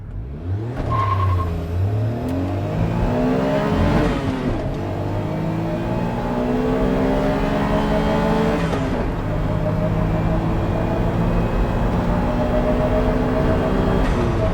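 A small engine of an Autozam AZ-1 kei sports car revs up hard several times toward 9,000 RPM, rising and falling in pitch, loud and close, with steady engine drone between revs.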